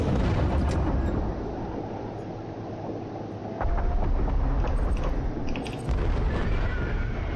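Torpedo explosions in the underwater game Diluvion, deep rumbling booms that swell and roll continuously, with heavy low-end surges that cut in and out and faint metallic debris over the top.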